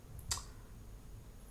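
A single key press on a computer numeric keypad while working in Blender, one short faint click near the start and then quiet low background hum.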